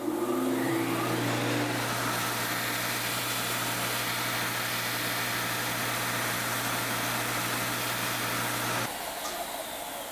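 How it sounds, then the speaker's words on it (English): A disc sander grinds down an acoustic guitar saddle with a steady, loud motor whine and sanding hiss. It runs alone and continuously until it cuts off near the end. "So the disc sander makes quick work of this."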